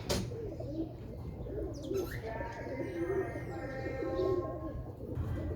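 A champion pigeon gives soft, repeated low coos, several in a row, close by with someone talking over them and faint chirps in the background.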